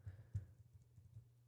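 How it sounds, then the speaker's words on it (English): Soft keystrokes on a computer keyboard during coding, a scattered run of faint clicks with one sharper tap, close and quiet with no talking. "I'm tired of typing this out here."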